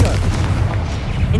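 A Confringo spell in Hogwarts Legacy blasts with a loud, sustained booming rumble over a low drone, filling the short moment without pause.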